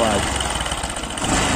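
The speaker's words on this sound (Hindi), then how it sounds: "इंजन की आवाज़ आप समझ गए होंगे इसमें कि कौन सी आवाज़ है" A motorcycle engine with a fault runs at a steady idle, a loud continuous rumble close to the microphone, with a voice talking over it.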